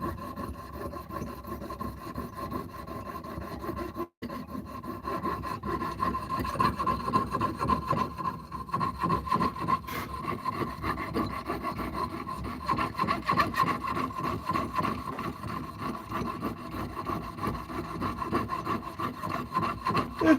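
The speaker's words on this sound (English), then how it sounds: "didn't think people would be cutting like 1/4 inch brass stock, um, or brass bars with it" Quarter-inch brass bar stock being sawn by hand, a steady rasping back-and-forth stroke that continues evenly throughout with only a brief break near the start, close and fairly loud.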